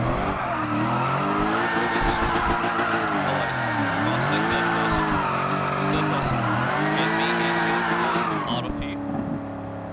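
Continuous engine roar of a drifting car in a racing video game, rising and falling in pitch as it slides, with steady tire skid noise layered on top, loud and close throughout before easing off near the end.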